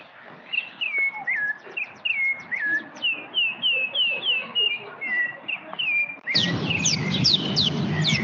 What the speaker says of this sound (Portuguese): Os pássaros estão a cantar a música do Gorhu.